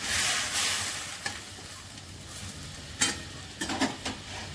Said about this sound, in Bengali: মশলাটা কষানো হয়ে গেছে, এবার আমি জল দিয়ে দিচ্ছি।